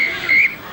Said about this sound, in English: it's a funny warble with Russell Smith's whistle tonight